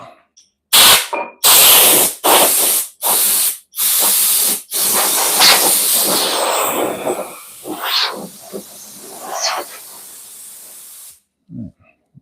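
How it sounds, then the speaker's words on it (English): A compressed-air nozzle blows dust out of a woodworking tool in a workshop: five short, loud hissing blasts, then a longer sustained blast that fades into sputtering air before it cuts off. "Blow some dust out."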